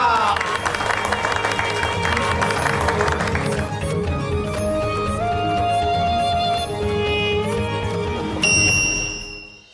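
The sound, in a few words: audience applause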